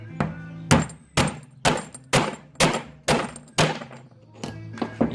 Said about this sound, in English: I've got a specialised bearing punch.